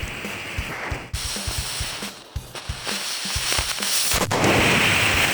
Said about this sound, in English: So I went outside to try 2 motors like this. The first exploded.